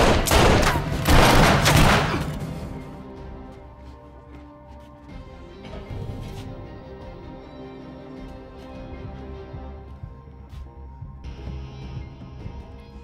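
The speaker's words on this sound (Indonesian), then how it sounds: "dua anak buah Samson yang berasal dari Rusia hingga terjadilah tembak-menembak." Gunfire erupts in an action film shootout: a dense, loud volley of rapid shots in the first couple of seconds, then fainter scattered bangs and rumbling scene noise trailing off.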